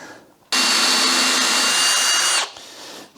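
A power drill bores a countersunk screw hole into a 1/2-inch wooden offcut cleat, one loud, close, steady whine of about two seconds that starts abruptly and winds down, alone.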